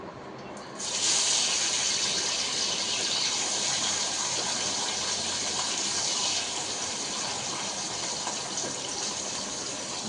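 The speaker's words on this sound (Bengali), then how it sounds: "প্রথম রিফাইনেরটা ভেজে দিই।" Fish sizzles in hot refined oil in a pan, a loud, steady broadband hiss that starts abruptly and runs continuously, easing slightly toward the end.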